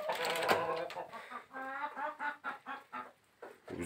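Chickens clucking inside a cool barn on a hot day, several birds close by making a run of rhythmic clucks and squawks, fairly quiet with no talking.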